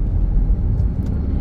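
A car drives along with a steady, loud low engine rumble and road noise while the driver shifts up through the gears toward fifth.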